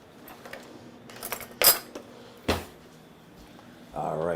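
A teaspoon is lifted from a set of cutlery in a kitchen, a few light metallic clinks and rattles amid soft handling noise, followed by a brief voice at the end.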